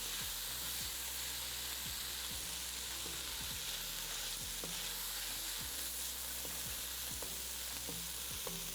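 Chicken browning in a pan as it is stirred, with a steady close sizzle of frying food and repeated scraping stirs at a regular pace.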